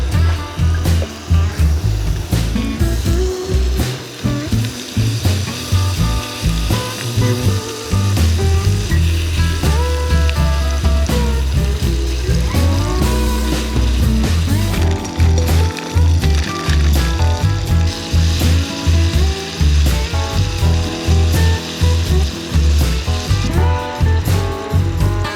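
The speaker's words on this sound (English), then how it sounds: "tonight on the induction cooktop, we are cooking one pot jambalaya, which has sausage and shrimp, vegetables, fire roasted tomatoes, and jambalaya rice" One pot jambalaya with sausage and shrimp, vegetables and fire roasted tomatoes frying on an induction cooktop, steady loud sizzling with stirring scrapes and shifting tonal hum throughout.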